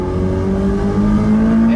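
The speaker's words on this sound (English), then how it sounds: "There's a lot of technology to make it sound less like a turbo and give it more of an engine note." Turbocharged engine of a 2020 Ferrari F8 Tributo Spider revving nearby, a loud steady tone that climbs slightly in pitch over roughly two seconds, with no talk.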